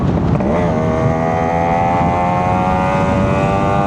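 A Yamaha RX135 two-stroke motorcycle pulls hard after a gear shift, its loud, buzzy engine note climbing steadily in pitch up close.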